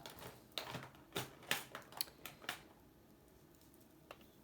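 Scissors snip through ribbon while a Christmas planner is decorated at a craft table, giving a series of quick, crisp cuts and clicks in an uneven rhythm before the room falls quiet, with one faint click near the end.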